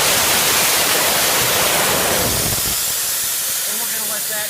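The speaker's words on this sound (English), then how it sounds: "Okay, so now we've got our air tanks all drained." Compressed air tanks on a truck air system being drained, a loud continuous rushing hiss very close by that thins slightly toward the end, with a voice talking faintly beneath it.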